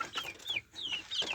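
Young chicks cheep in a quick run of thin, high chirps, several short calls close by with no talking.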